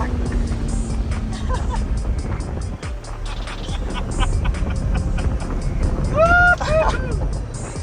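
Twin-turbo UGR Lamborghini Gallardo engine revving loud and close, a sustained roar that climbs through the gears with sharp shift changes, while people talk excitedly over it.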